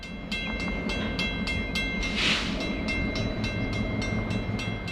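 An Iowa Interstate freight train led by an EMD GP38-2 locomotive rolls past with rhythmic clickety-clack wheel beats over a steady rumble.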